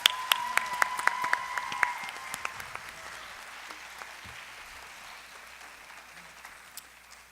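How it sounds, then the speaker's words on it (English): Audience applause after a Bharatanatyam Arangetram dance debut, a broad crowd clapping that gradually fades, with some sharp individual claps and a brief tone near the start. "Ladies and gentlemen, one more time, huge round of applause for these girls."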